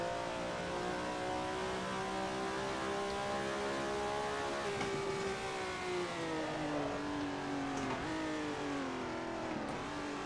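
Ferrari engine in the racing game Assetto Corsa, a loud continuous mid-pitched roar that rises and falls through revs and gear changes with downshifts under braking, steady throughout with no talk.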